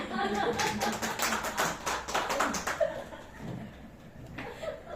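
An audience at a motivational sprint event claps in a short burst mixed with some laughter and a brief voice, the clapping fading out toward the end.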